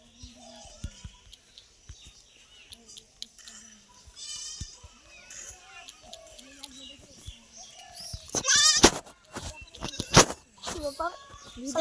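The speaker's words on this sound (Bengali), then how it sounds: "ছাগলের বাচ্চাটা এরকম করেছি" A young goat kid gives several high, wavering bleats in short bursts, close by, with whispered and spoken voices around it and louder handling noises and clatter later on.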